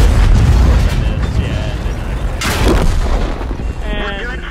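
Tank cannon fire and shell explosions from the World of Tanks video game, with the SU-5 artillery vehicle, roll as loud, heavy booms and a sustained rumbling blast, over continuous background battle noise with a voice-like burst.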